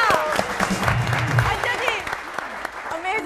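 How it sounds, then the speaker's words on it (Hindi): Audience clapping at a live comedy-style show, a brief burst of applause mixed with voices and laughter from the crowd. "तालियां"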